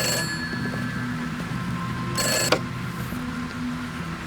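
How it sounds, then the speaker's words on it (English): An electronic phone ring with bright high tones, one burst fading after a couple of seconds over a low room hum, no voices. "It's just a phone."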